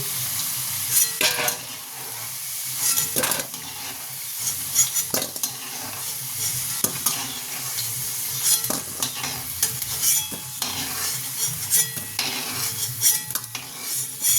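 Potatoes frying in a pan with a constant sizzle while a spatula stirs and scrapes in repeated clanking strokes, close and loud, no voices.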